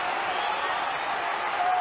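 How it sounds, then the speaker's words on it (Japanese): A large crowd roaring and cheering at a 2007 sumo bout involving Asashoryu, a dense, sustained wash of noise that may carry a commentator's voice. "この大歓声"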